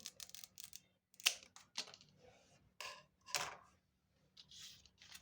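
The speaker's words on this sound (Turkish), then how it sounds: "böyle keskin bir makasla fazla zarar vermeden tek seferde keseceğim" Sharp scissors snip through a snake plant leaf cutting in a few crisp, close clicks spaced apart, with quiet pauses between them.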